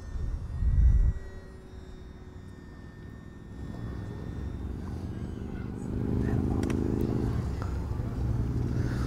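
A small UMX Turbo Timber RC plane flies a loop overhead, its steady electric motor hum carrying throughout and swelling louder partway through, after a brief thump near the start.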